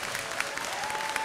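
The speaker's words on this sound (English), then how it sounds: "Please hold your applause." Brief, fairly faint applause ripples through the hall at a town meeting after a vote, a soft patter of scattered clapping under a quiet room tone.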